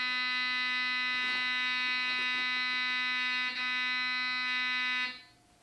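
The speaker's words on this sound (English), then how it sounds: "When people want to come to the gate to drop something off, they have to buzz the buzzer" An electric gate buzzer sounds a harsh, loud, continuous buzz lasting about five seconds with a brief dip partway, then stops.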